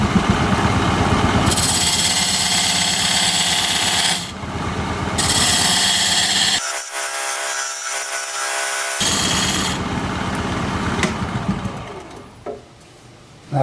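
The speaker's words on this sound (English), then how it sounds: "now I'm going to use this diamond point tool to put a dovetail on the side here" A diamond point tool cuts a dovetail into a wood pedestal on a lathe, giving a loud, rough, continuous scraping hum with brief breaks and changes in tone as the cut stops and restarts.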